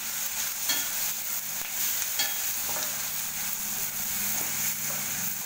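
Brinjal curry masala with turmeric sautéing in an oiled pan for Tamil kathirikai poriyal, a steady close sizzle with soft scraping stir strokes at irregular intervals, no voices.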